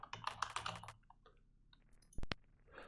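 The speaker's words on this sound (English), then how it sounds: "I can just type the number back in." Quick bursts of keystrokes on a computer keyboard as a number is typed in, a rapid cluster, a pause, then a couple of sharper clicks, close and quiet with no speech.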